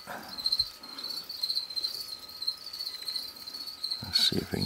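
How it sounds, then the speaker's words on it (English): Feeder crickets kept for crested geckos chirp in a steady, faint, high trill, close by and continuous, with a few soft handling bumps near the end. "They're gonna get crickets"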